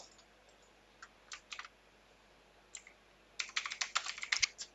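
A computer keyboard is typed on quietly, with a few scattered key clicks followed by a quick, dense burst of tapping near the end. No one speaks.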